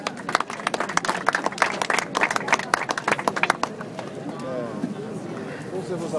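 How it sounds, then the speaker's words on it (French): A crowd at a political rally gives a burst of close, loud clapping that fades after a few seconds, with voices talking over it as it dies away. "d'applaudir d'abord Rania Mejdoum"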